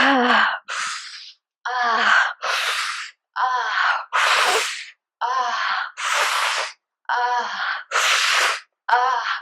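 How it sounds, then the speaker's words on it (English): Loud, deep breathwork breathing: a steady run of forceful inhales and exhales in alternating bursts, close and clear with no talk over it. "a little louder. Big deep breaths"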